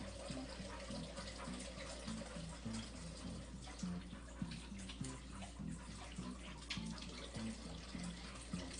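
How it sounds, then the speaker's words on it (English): Water runs steadily from a tap during home baking, a soft continuous splashing stream with light clinks and movement in the background and no one speaking. "And now it's water ASMR, apparently."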